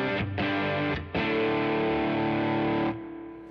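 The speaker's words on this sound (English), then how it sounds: "So my amp is a matchless or the matchstick." An electric guitar through an HX Stomp Matchstick amp model on the jump channel, turned all the way up, rings out thick, distorted chords: two short stabs and then one long sustained chord, loud and alone.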